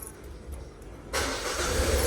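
A car engine starts: faint background hum, then an abrupt catch into a steady idle that carries close and even to the end.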